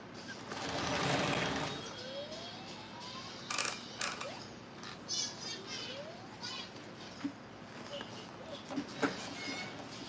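A sewing machine stitching, with a sustained mechanical whir early on followed by short irregular bursts and clicks of single stitches, close, with faint background noise.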